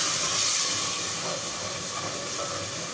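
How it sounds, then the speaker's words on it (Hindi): Rajma masala frying in a pan after a splash of water, a loud, dense hiss of sizzling and steam that holds steady and eases slightly toward the end. "मसाले को अच्छे से भूनना है,"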